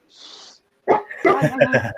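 A dog gives a quick burst of close yips and short barks after a brief breathy hiss, loud and clear in a home setting.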